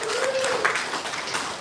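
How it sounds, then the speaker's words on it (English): Audience applause at a holiday reception and donor board installation, a steady wash of clapping from many hands, moderately loud and sustained across the moment. "Let's give a round of applause"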